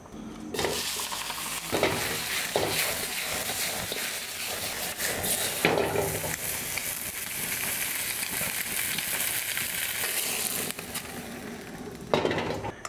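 Chicken oil sizzles and crackles in a pan for adobo, a continuous dense frying hiss with intermittent utensil scrapes and clinks, fairly close and steady for the whole stretch with no talking.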